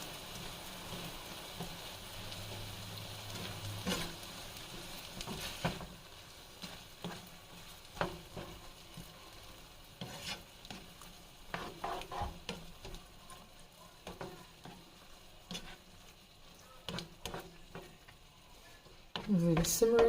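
Lasagna meat mixture stirred in a hot pan, a faint, soft sizzle broken by scraping and clattering stirring strokes that grow busier toward the end.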